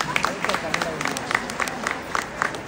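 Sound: audience applause

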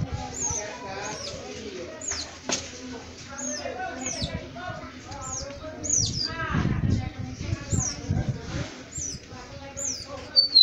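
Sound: small bird chirping and calling

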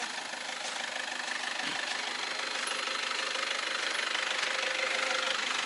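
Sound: tractor engine driving out of mud

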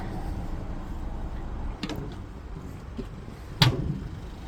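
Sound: Renault Master van doors being opened

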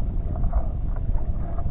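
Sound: wind on a lake

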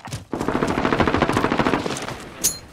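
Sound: sentry gun firing in Call of Duty Modern Warfare video game

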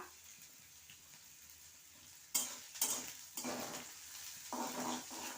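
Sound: onion and green chili frying and being stirred

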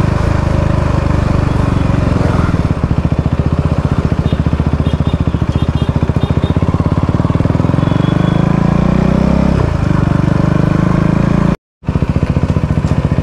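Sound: motorcycle riding

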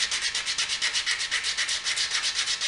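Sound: sanding bark off wooden handles

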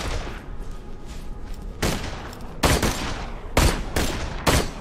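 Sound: Hyperion sniper rifle firing in video game Borderlands 2

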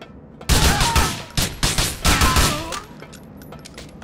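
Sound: gunfire in the video game Grand Theft Auto 4

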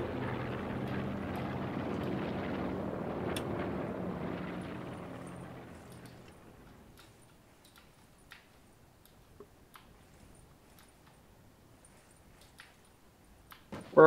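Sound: airplane flying overhead in Call of Duty Black Ops 4 Blackout video game

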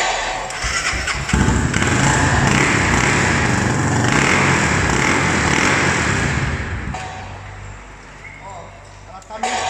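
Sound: Honda CB 300 motorcycle engine running roughly

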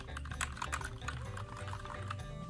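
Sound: typing on a SteelSeries computer keyboard

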